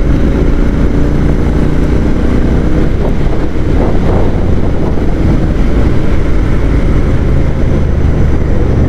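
A Royal Enfield Interceptor 650 Mark 2 motorcycle cruises along steadily, its engine drone close and constant beneath heavy wind rush, with no talking.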